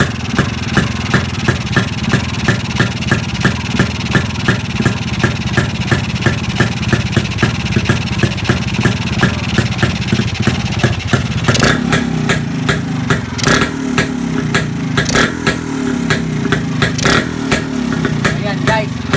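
A Rusi Brutus motorcycle engine idles close by at a steady, loud, chugging rhythm while its carburetor is tuned, with the beat shifting slightly partway through; someone talks over it.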